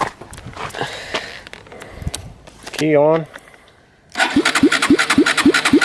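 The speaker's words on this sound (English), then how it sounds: "The starter's turning, the engine." A Honda CRF150F motorcycle's electric starter cranks the engine with a rapid rhythmic chugging that turns over repeatedly, loud and close, after a brief whirring and a short spoken phrase.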